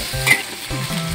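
Ginger, garlic, dried chili and Sichuan doubanjiang fry in plenty of oil in a wok, a close steady sizzle broken by scraping stirs.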